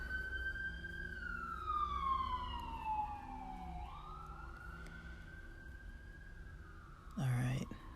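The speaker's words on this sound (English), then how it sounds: "I've mentioned before, there's a lot of sirens lately." An emergency vehicle siren passes outside, with a single long wailing tone that sweeps down and back up. It sounds fairly distant and muffled against a low background rumble, and a brief thump comes near the end.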